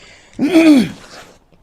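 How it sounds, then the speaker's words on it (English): A single short, throaty throat clearing, close and fairly loud, then silence. "let me clear my throat"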